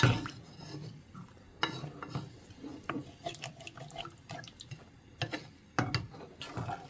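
Cauliflower gets stirred in a cooking pot, giving irregular clinks, scrapes and wet shuffling from a spoon against the pot, close and moderately loud, with no voices.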